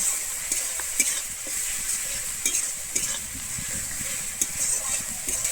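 Kashmiri chilli powder and turmeric are stirred into sizzling masala for a Bengali steamed egg curry, with steady frying hiss and periodic scrapes of a spoon against the pan.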